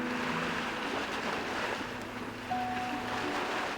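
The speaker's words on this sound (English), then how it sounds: "why do I hear waves on your end?" Ocean waves wash steadily in the background of a phone call in the Love and Deepspace video game, a continuous, even surf hiss with a faint tonal musical hum underneath.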